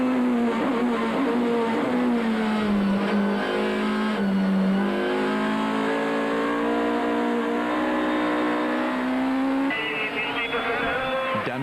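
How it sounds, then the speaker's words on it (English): A Toyota Corolla rally car's engine revs hard on a tarmac stage at Killarney during the Cape Rally, heard in-car: a loud, continuous high-pitched howl rising and falling with gear changes, dropping briefly before climbing again. "he flung the Corolla around, already pulling a gap to Habich."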